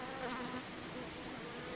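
Honeybees buzz around a weak hive being worked without a smoker, giving a dense, steady, fairly faint drone of many wings that fills the space with no speech.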